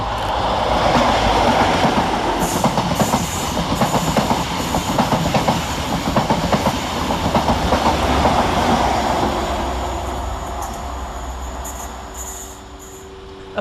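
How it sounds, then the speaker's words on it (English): A pair of West Midlands Railway Class 172 diesel multiple units pulls out of Cradley Heath station, a loud continuous rumble with clattering wheels and metallic squeals, then the noise gradually eases as the train moves away. "172-214 and 172-216 departs, with the 10:03 West Midlands Railway service from Kidderminster to Stratford-upon-Avon via Whitlock's End"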